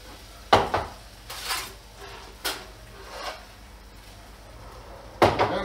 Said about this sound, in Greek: Μεταφέρω το τηγάνι μου.